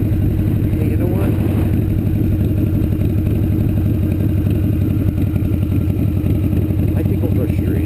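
A Harley Davidson Dyna FXDP motorcycle being ridden, its loud rumbling V-twin engine running steadily close by with wind buffeting throughout.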